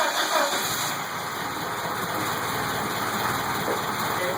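A rebuilt car engine fitted with a brand-new muffler runs at a steady, fairly quiet idle, a continuous mid-range hum with no voices over it.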